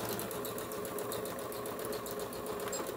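A Kenmore 385.19606 sewing machine runs a lock stitch, a steady fast mechanical whirring and needle clatter heard up close, continuous throughout with no talking.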